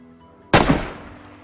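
A single sharp gunshot in a video game cracks out suddenly after a quiet lull, loud and close, then trails off in a reverberating decay.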